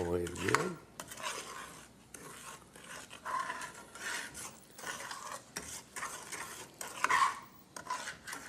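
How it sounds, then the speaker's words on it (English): A spoon scrapes and stirs flour into a roux in a hot pan, with repeated rasping strokes and light metal clinks, close and fairly steady, no talking. "I'll spread it around in there and stir it in."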